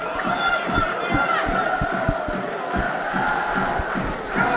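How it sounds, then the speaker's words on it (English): Football crowd at the Chris Moyle Stadium roaring and chanting after a Stuart Hughes goal against Salford, loud and sustained, with rhythmic claps and shouts running through it. "That's got the crowd going"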